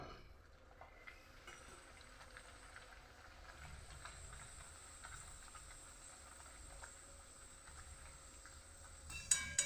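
A pea-stuffed kachori fries in hot oil with a steady, soft hiss and faint crackle that runs throughout, close and quiet, with no talk.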